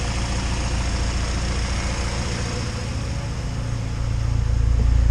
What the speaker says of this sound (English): Like, idle's freaking perfect. Just listen to this thing.